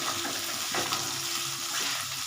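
Chopped onion frying in hot oil in a pan alongside potatoes, a continuous close sizzle and crackle with a few soft stirring scrapes, no voices.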